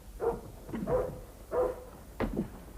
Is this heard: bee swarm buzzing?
no